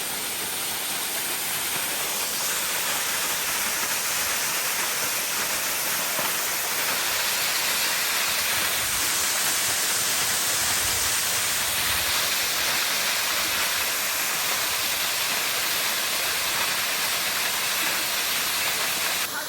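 Steady, loud rushing of a waterfall at Wagherapada, ringed on all sides by mountains, a broad continuous hiss of falling water that holds unbroken throughout with no voices.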